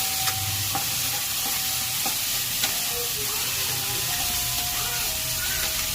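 Food frying in a pan makes a steady, dense sizzle throughout, close and loud, with occasional light stirring clicks and no talking.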